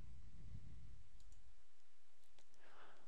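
A few faint, crisp computer mouse clicks sound in a quiet room while navigating the Autodesk Inventor interface, separated by near silence.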